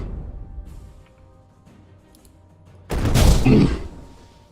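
A soul cannon fires in the video game Master of Magic, one sudden loud booming blast with a crackling burst after a quiet stretch of faint ambient sounds.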